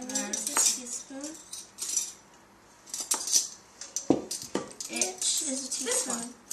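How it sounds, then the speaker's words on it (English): A teaspoon stirs paprika into a cup of whole wheat panko breadcrumbs in a bowl, making scattered metallic clinks and scrapes close by, with intermittent voice sounds over them. "mix together a teaspoon of paprika and that cup of whole wheat panko breadcrumbs"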